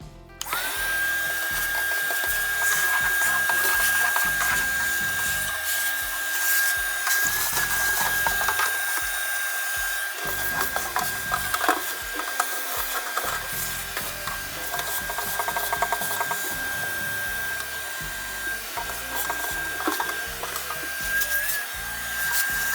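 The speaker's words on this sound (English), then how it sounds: "We'll get this vac'd out." A vacuum cleans ash out of a pellet grill with a loud, steady motor whine, broken by rattling, scraping clatter as the nozzle knocks and drags around inside the metal firepot and barrel.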